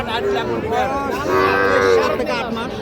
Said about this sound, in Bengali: এই যে দেখেন কোয়ালিটি ফুল গরু চলে আসছে